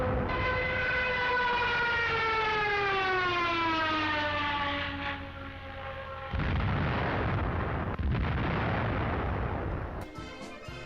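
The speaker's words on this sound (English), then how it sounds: "these sound devices were mounted on the underside of the Ju-87 so that when the plane entered a steep dive, a shrieking wail would emit from its fuselage" The dive siren of a Ju-87 Stuka wails in a long shrieking tone that slides steadily downward, then gives way to a loud, roaring rush of noise that continues to the end.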